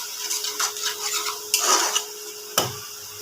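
Pomfret fish laid into a pan for a Bengali oil-chili curry, heard as a few soft clatters and a brief scraping sizzle over light metallic kitchen clinks, close by with no voices.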